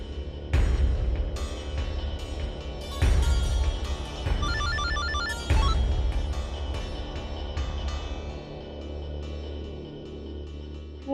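A telephone rings in repeated electronic bursts of trilling tones, loud and close, over a low droning backdrop, in a domestic drama scene; no one speaks.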